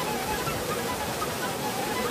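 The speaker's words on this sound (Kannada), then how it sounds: "ಅಲ್ಲಿಂದ ಹರಿದು ಬರ್ತದೆ ನೀರು," Water pours steadily over the small Bhairappa waterfall at Kalghatgi, a dense, continuous rushing hiss that fills the short stretch up close. No talking can be picked out over the flow.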